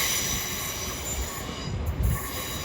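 A train passing through Salford Central station, with a steady rolling roar, clatter from the wheels and high metallic squealing of the wheels on the rails, close and continuous.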